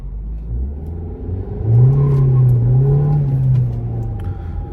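A Renault Laguna Coupe accelerating on the road, a steady droning engine hum that rises in pitch and holds, heard from inside the car, fairly loud and without talk.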